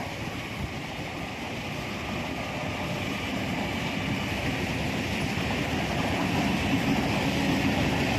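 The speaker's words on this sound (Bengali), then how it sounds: "দেখো কি সুন্দর ট্রেনটা যাচ্ছে" A train passes at a distance at night near a fairground, a steady broad rumble and rush of wheels on rails holding evenly throughout with no voices over it.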